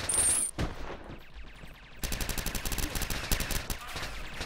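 Gunfire in the Red Crucible 2 shooter video game: a burst after a short pause, then quick, rhythmic automatic fire that keeps going steadily at moderate loudness.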